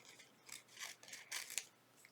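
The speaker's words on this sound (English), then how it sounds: "I think what I'm going to do is actually cut it just a little bit more" Scissors snipping paper for a junk journal, several short, close, quiet cuts in an irregular rhythm, with no talk.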